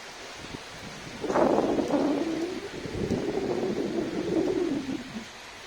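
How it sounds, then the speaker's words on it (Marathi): Monsoon thunder rumbles long and low across a Konkan village near Guhagar, rolling for several seconds over a steady hiss of rain, with pigeons cooing faintly nearby. "वरुण देवाची गर्जना बघा आता पाऊस पडायला लागला"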